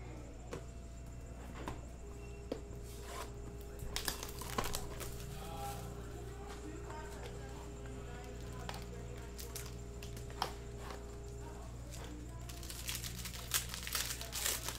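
Panini Gold Standard soccer card packs, 2019-20, are torn open and crinkled nearby, with scattered crackles and rustles against a low steady hum and a faint background tone.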